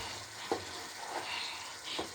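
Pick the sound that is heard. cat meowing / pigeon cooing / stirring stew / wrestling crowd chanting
stirring stew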